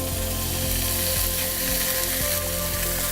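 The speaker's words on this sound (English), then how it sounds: "So once those onions are nice and browned for the most part, we're going to go ahead and we're going to add our pork" Diced pork and browned onions frying in a pan, with a steady, loud sizzle that runs without a break and no one talking.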